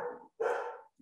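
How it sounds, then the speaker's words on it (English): A lively dog barks twice indoors, short and moderately close, each bark clipped off by silence. "sorry, I have a very active dog."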